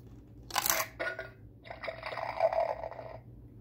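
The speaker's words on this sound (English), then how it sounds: "Sounds like it's pouring a drink." A Coca-Cola novelty coin bank plays an electronic drink-pouring effect, a few short bursts of fizzy liquid splashing and filling, close and fairly quiet, with no talk.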